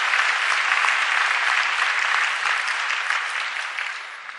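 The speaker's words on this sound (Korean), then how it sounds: "저희들이 뜨거운 박수를 환영하겠습니다" A church congregation at Sunday worship applauds warmly to welcome a visitor, with a steady, even wash of many hands clapping that fades slightly toward the end.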